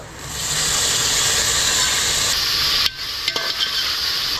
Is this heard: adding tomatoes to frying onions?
yes